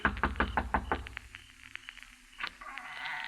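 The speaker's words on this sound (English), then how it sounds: "I kept knocking" Several quick knocks rap on a door in a 1940s radio drama, a rapid close series of sharp raps followed by a pause, a single later thud and a low hum.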